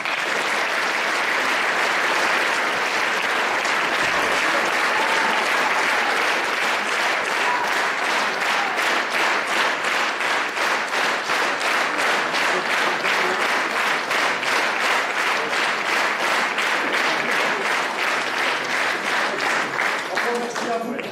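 Sustained theatre applause fills the room, loud and unbroken, and gradually settles into a rhythmic, synchronized clapping beat in the second half, with faint voices mixed in.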